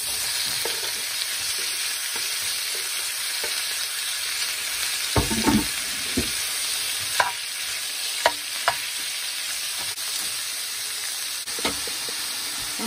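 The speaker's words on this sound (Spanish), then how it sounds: "Bueno, pues nos vamos al sartén a freírla" Beef cutlet frying in olive oil in a pan, a loud continuous hissing sizzle close by with a few scattered pops and clatters from the pan, no voices.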